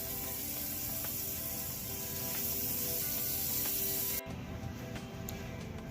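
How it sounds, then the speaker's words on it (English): Butter sizzles and hisses steadily on a hot griddle while French toast is being made. The frying noise is even and close, and it thins out abruptly near the end with no talking. "And get some butter on that hot griddle."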